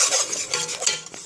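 A whisk scraping rapidly around a bowl, mixing a fruit snack mixture, a continuous loud scratchy stirring with small clicks, close and with no voices.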